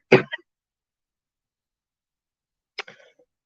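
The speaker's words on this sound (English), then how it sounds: "And I just gotta cough it out." Two short, sharp coughs, one right away and another a few seconds later after silence, close and abrupt.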